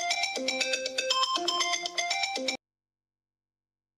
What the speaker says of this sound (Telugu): రుద్రాణయ్య కాల్ చేస్తుంది.